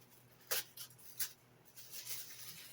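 Tape is pulled off the packaging of a model steam locomotive during unboxing, giving a few faint, brief ripping strips close by with small rustles between them.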